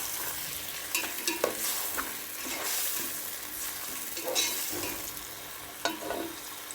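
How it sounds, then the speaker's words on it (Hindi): Chopped onions fry in about half a cup of hot oil while being stirred, a steady soft sizzle broken by scraping strokes of a spoon against the pan. "इस आधा कप ऑयल में इस प्याज को जो है वो हमने ब्राउन करना है।"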